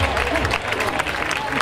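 An audience at a village fair pregón in Mezquitilla applauds the poster's author, with steady dense clapping and some crowd noise close by for the whole moment.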